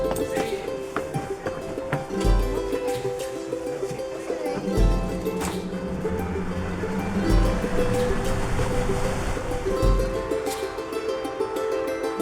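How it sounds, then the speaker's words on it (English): Boat carrying passengers along a river in the Amazon jungle, with a steady engine drone and water rushing past the hull, low rumbling bursts coming and going throughout. "Step one of the day is boarding this boat for 3 hours on the river."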